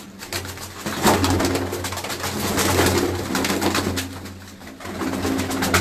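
Pigeons cooing at a village loft in Gujrat, Pakistan, repeated low rounded coos in a soft rhythmic pattern, close by, with a flutter of other faint noise around them.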